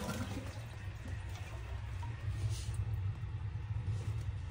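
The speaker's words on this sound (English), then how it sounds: "So it's filled up enough for me to flush to see what I did wrong." A household toilet flushes just after a new gasket install, giving a steady low rush of water that runs throughout at moderate, close level with no talking.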